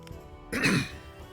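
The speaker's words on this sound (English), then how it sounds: "clear his throat behind her so he doesn't startle her" A single throat clear, muffled and fairly close, lasting under half a second after a quiet lull, from a tabletop roleplaying session.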